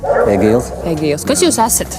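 A dog with a canine handler from a regional police unit gives loud, close barks and high yips, heard alongside people speaking.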